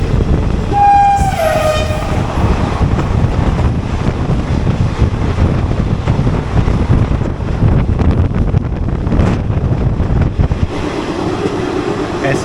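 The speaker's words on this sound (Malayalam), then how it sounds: "SMBT കാരേക്കാൽ എക്സ്പ്രസ് ആണ് പോയത്" SMBT Karaikal Express passing close by, opening with a short horn blast, then a loud roaring rush of coaches with wind buffeting, fading toward the end.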